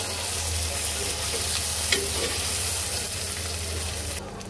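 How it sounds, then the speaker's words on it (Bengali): Cut potatoes lightly frying in a pan, a dense continuous sizzle and hiss close up with a faint clink partway through, no voices. "আলুটাকে একটু হালকা ভেজে নেব।"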